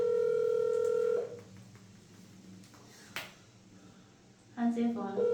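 A phone rings with steady electronic tones in two bursts, one long at the start and another near the end, separated by a quieter stretch with faint background noise.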